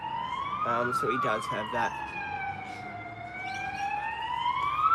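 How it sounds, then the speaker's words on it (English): A wailing ambulance siren sweeps up and down continuously, fairly close, while a person speaks briefly over the start of it. "it's just an ambulance that's making a noise."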